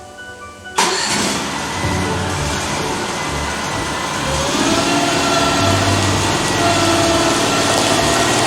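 A John Deere machine at a golf course maintenance shed starts up with a sharp burst and then runs steadily, a close, even engine drone that grows slightly louder as it drives off, no talking.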